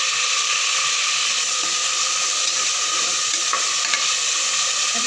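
Steady, loud sizzling of five or six chopped tomatoes in a hot frying pan, with faint stirring scrapes over the continuous hiss.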